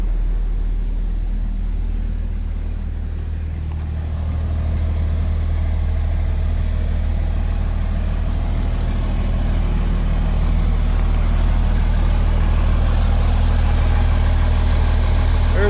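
School bus engine idling with no muffler fitted, a loud, steady low rumble that drones on without pause for about fifteen seconds, heard close by with no voices.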